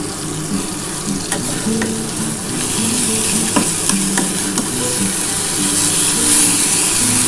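Raw mustard oil and two green chillies go into a hot pan of banana-stem mash, giving a loud, continuous sizzle and crackle with scraping stir sounds. The frying grows slightly louder toward the end, with no voices.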